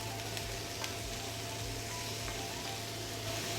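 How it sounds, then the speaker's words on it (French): Vegetables sautéing in a frying pan, a soft continuous sizzle with a faint steady hiss and low background hum, quiet and even throughout. "Là, on entend le petit bruit de la poêle"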